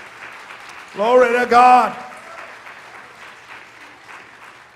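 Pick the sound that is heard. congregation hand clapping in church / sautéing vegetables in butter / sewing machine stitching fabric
congregation hand clapping in church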